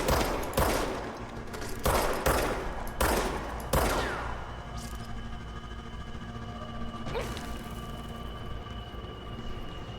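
Bursts of gunfire in the video game Control, several loud shots in quick succession over the first few seconds, followed by a lingering low hum and a faint later impact.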